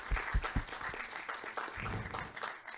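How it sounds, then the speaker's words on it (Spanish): Modest applause from attendees at a mining engineering talk, somewhat faint and uneven, with a few low thumps and murmurs mixed into the clapping. "Gracias, aplausos."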